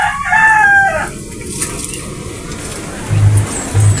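A rooster crows loudly and close at the start, followed by quieter background noise and a couple of low thumps.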